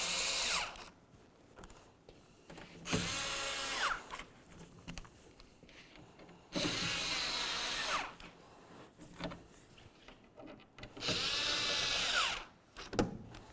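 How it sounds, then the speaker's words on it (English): A power drill tightens the bolts along the top of a Nissan Titan tailgate (2004–2015 model), running in three loud, sustained bursts a few seconds apart with quieter handling sounds between. "Let's start tightening the bolts along the top of the tailgate."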